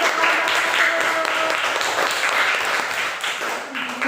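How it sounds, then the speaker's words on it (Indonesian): A primary-school classroom breaks into applause for the teacher, a loud dense wash of many small hands clapping together, sustained and slowly thinning toward the end, with children's voices mixed in. "tepuk tangan dulu untuk Bapak"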